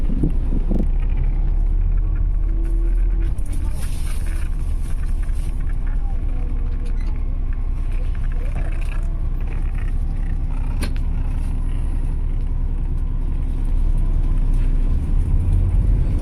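A VIP intercity bus pulling into Buriram bus terminal in Thailand, its engine giving a steady, loud low rumble with road and wind noise that stays constant throughout, with no clear talk.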